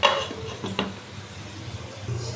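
Mutton stirred in a pot for a Bengali mutton kosha, with a few close metallic clinks and scrapes of a spoon against the pot at the start, then a quieter low simmer.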